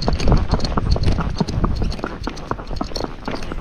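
Hooves of a fox trotter horse clip-clop on a road in a quick, steady four-beat rhythm, close and loud, with faint wind or movement noise behind them.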